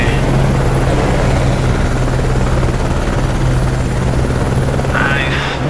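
Helicopter rotor drone from the off-road racing game BAJA: Edge of Control, a steady loud chopping whir running throughout with a constant low hum underneath.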